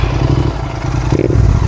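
A Royal Enfield Interceptor 650 fitted with an AEW exhaust revs steadily at close range, a dense, continuous engine rumble that swells slightly toward the end.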